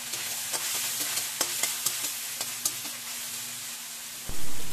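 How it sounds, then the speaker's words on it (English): Shallots and garlic sauté in a hot pan, a steady sizzle broken by repeated sharp scrapes and taps of stirring, ending in a louder rush near the close. "you add your shallots or onions, your garlic, then stir it"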